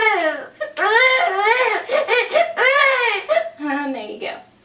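A person's voice imitates the cry of a newborn baby: a few seconds of close, loud, wavering wails and whimpers rising and falling in bursts, alone.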